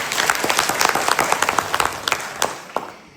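Audience clapping at a commemoration ceremony in Gumkhal, a lively burst of many hands with distinct sharp claps standing out, close and loud, tapering off at the end.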